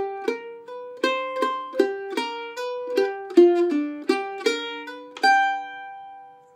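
Mandolin slowly picking measures six through eight of a break to a song, clear plucked single notes in a steady, unhurried rhythm, ending on a longer sustained note that rings out alone.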